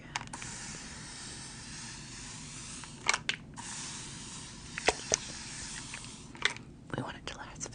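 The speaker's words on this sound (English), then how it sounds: "let me finish off by setting your makeup in place with a setting spray" Makeup setting spray is misted onto a face in several short, breathy hissing bursts, close and soft, mixed with quiet whispering.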